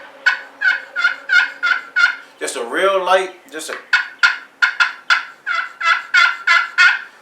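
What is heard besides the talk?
wild turkey gobbler gobbling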